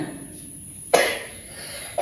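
A person coughs sharply twice, about a second apart, the coughs standing out clearly over a quiet background without speech.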